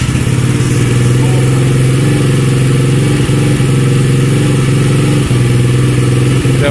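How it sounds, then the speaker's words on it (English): An SSR 125 pit bike's single-cylinder engine runs steadily after a carburetor fix, a loud close, continuous buzzing idle with slight rhythmic pulsing throughout. "we'll see if it'll run with the choke off"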